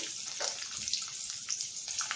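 Water runs and splashes into a pan of tempered chilies, curry leaves and asafoetida in a short steady stream with a few brighter splashes, moderately loud and close, no talking.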